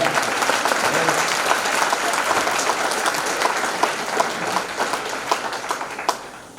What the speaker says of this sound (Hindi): बजाइए ताली जोर से